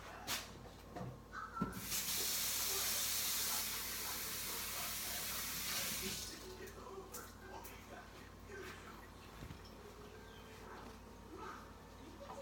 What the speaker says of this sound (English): I'm just gonna wash my hands real quick.